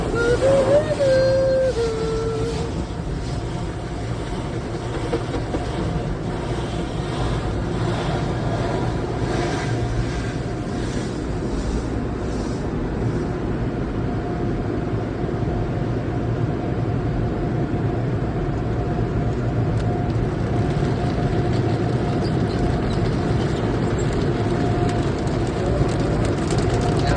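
Car passing through an automatic car wash, a steady hiss of water spray and rumbling machinery heard from inside, with a brief whine of equipment early on and a continuous wash of noise throughout.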